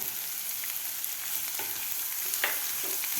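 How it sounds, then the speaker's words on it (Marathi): Chili thecha and chopped onion sauté in an oily pan for a Maharashtrian methi zunka, giving a steady soft sizzle with a few light scrapes and clicks of a spatula, close and unaccompanied by voices. "ठेचा आपल्याला थोडासा परतून घ्यायचा आहे त्यानंतर घालायचा आपल्याला कांदा"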